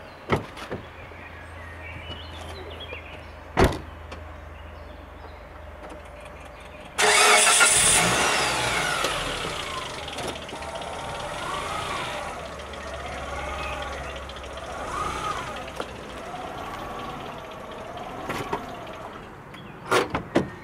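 A car engine cranks and starts after a quiet stretch, then idles and runs steadily at close range while the car drives over a flashlight, with a few sharp knocks and a soft whine riding over the engine.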